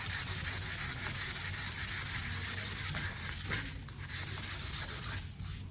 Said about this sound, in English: Then we're gonna use that sandpaper in our project and sand it really good.